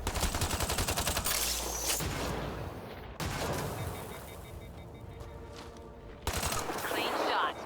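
Rapid automatic gunfire from a shooter video game, loud sustained bursts in several volleys with brief lulls between them.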